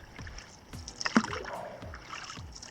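A canoe paddled into a small cove gives repeated paddle strokes and soft water splashes and drips, a few seconds apart, close and fairly quiet.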